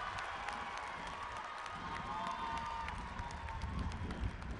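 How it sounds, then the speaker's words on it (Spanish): Crowd in Guanajuato, Mexico, welcoming the president with applause, a distant, steady wash of clapping and cheering blended into a loud outdoor murmur. "Recibámoslo con un caluroso aplauso al presidente en tierras guanajuatenses."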